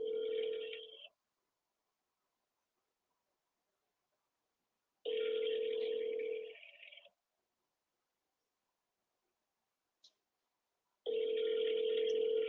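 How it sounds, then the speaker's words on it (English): Outgoing call ringback on a phone line: three long ring bursts separated by silent gaps, steady and fairly loud, with no voices over them. "Can you guys hear the phone ringing?"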